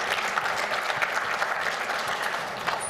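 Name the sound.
audience applause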